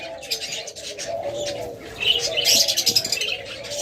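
A crowd of lovebirds in various colour mutations calls at a bird seller's, with busy overlapping high chirps and chatter rising in intensity toward the end.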